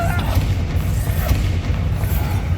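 A Confringo blasting spell explodes in the Hogwarts Legacy video game, a loud, dense rumbling boom that fills the whole moment with heavy low-end roar and crackling debris.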